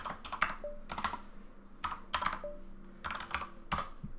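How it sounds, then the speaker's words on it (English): Someone types a command into a terminal on a computer keyboard, with quick bursts of clicky keystrokes separated by short pauses, close and clear. "on the terminal, let's type in ACH CLI"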